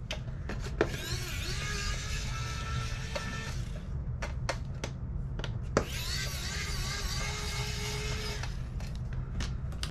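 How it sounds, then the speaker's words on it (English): Phillips screws being removed from a Nintendo Wii U console during disassembly, with two long stretches of whirring, squeaking driver noise broken by sharp clicks and taps, close up with no talking. "Some screws that we're gonna have to remove."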